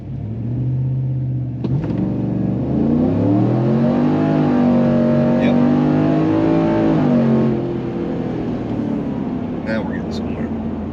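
A 2020 Chevrolet RST truck accelerates hard, its engine rising in pitch through several gear shifts with a brief drop between gears, loud and close, then easing to a steady drone at the end.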